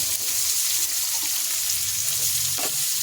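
Onions fry in hot oil with a little sugar in a pan for a mutton-fat jackfruit curry, a steady close sizzle that holds evenly throughout with a brief stirring scrape near the end and no talk.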